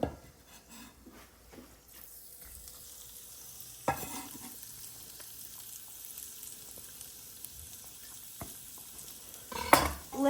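Crispy pancetta and garlic sizzle in a pan off the heat while being stirred for a carbonara, with a soft continuous crackle and occasional sharper scrapes and clinks of the utensil against the pan.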